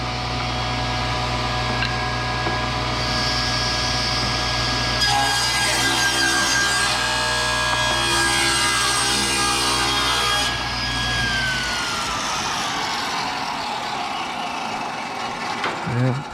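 A table saw rips a wooden board lengthwise for a coffee table build, fed with push sticks: a loud, steady motor whine rises as the blade bites in mid-clip, then the machine winds down near the end.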